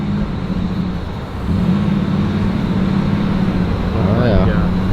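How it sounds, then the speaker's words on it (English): A twin-turbo Black Sheep engine in a street car cranks on brake cleaner while it lacks a working fuel pump, giving a steady, loud mechanical drone that swells partway through, with people talking nearby. "Trying to crank it with some brake clean because it needs a fuel pump."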